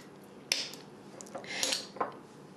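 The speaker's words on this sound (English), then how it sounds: "We're just going to chop them up and throw them in here." Chopped apple pieces with skins on tossed into a crock pot for a beef roast, landing as a few sharp clatters and knocks against the pot, close and fairly quiet with pauses between.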